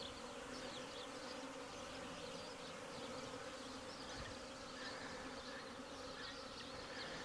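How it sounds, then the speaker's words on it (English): Dense, steady buzzing of bees and wasps swarming around two beehives under wasp attack, a continuous close insect drone with no talking. "still going on here at the beehive, and whoa, they are pretty busy today"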